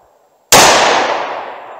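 A single loud gunshot from a magnum revolver firing a Federal American Eagle round: a sudden sharp blast right at the microphone, followed by a long fading boom, after near silence.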